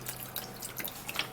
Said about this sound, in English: you're going to transfer the carrots into the blender, and then you would have to be adding up water